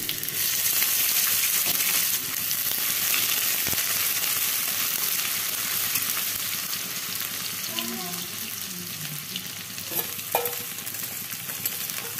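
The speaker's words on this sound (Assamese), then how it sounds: "মাংসখিনি বনাবৰ কাৰণে মই কেৰাহীত তেল দি দিছোঁ আৰু এইখিনি গৰম হোৱাত মই ইয়াত গোটা জিৰা, তেজপাত আৰু পিঁয়াজখিনি দি মাংসখিনি দি দিছোঁ।" Goat meat with whole cumin, bay leaf and onions fries in hot oil in a kadai, giving a loud continuous sizzle with stirring scrapes that eases off toward the end, and no talking.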